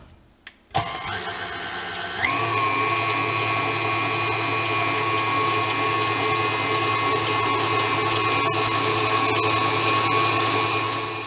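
An electric mixer whipping peppermint marshmallow starts with a click and then holds a loud, steady motor whine with a low hum underneath, running nonstop and close for over ten seconds.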